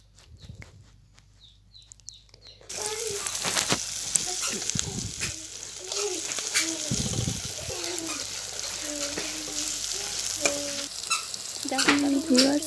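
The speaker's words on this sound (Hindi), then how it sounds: "अब हमने जो प्याज है वही डाल रही हूँ, थोड़ा सा फ्राई करूँगी" Chopped onions frying in a pan for a dry mushroom curry, a steady close sizzle starting abruptly after a quiet moment, with occasional stirring scrapes and faint birdsong far off.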